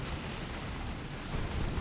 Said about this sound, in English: Kamikaze explosion into those termagants.